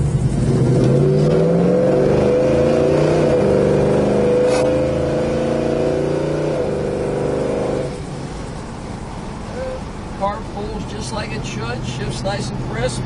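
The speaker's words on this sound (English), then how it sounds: "It's a nice running big block Chevy. It has a great sound to it" A 1970 Chevrolet Chevelle with a big-block Chevy V8 accelerates through the gears, a loud rising engine roar with a crisp shift, then settling to a lower rumble as someone talks over it.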